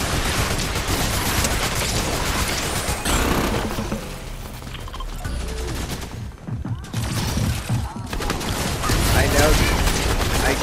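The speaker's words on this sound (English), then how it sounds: "Someone's shooting over here" Gunfire in a video game crackles through a dense, noisy mix with shots and bursts, while players talk over it.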